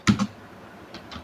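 Keys tapped on a computer keyboard, two quick clicks, a pause, then two more, close and crisp in a quiet room.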